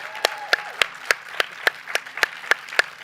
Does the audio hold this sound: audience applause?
yes